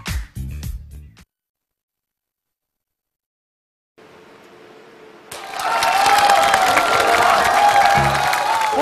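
Studio audience at a Chinese TV variety stage show bursts into loud, sustained applause and cheering after a brief snatch of sound and a silent gap, with dense clapping and shouts continuing to the end.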